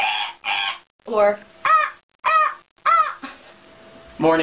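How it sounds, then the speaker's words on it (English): A goose honks repeatedly in a quick run of about seven loud, nasal calls close by, with brief gaps between the calls. "Goose."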